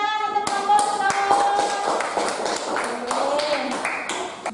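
Classroom applause for a student group: a run of sharp, fairly even hand claps in a room, mixed with voices talking.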